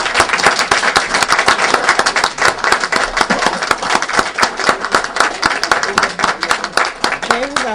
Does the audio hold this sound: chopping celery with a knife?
no